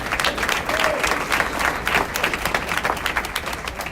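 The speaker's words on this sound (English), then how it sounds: "Give her a round of applause, please." An audience at a community breakfast award presentation claps steadily, a loud continuous wash of many hands throughout.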